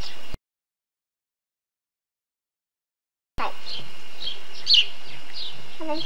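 A small bird gives a few faint, high chirps near a backyard pool, arriving after a brief silent gap and set against soft outdoor background noise.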